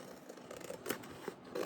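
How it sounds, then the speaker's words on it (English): Scissors snipping through a patriotic rub-on transfer sheet, a few quiet, crisp cuts spaced irregularly over a short moment, close and soft, with no talk. "I'm going to cut it out though"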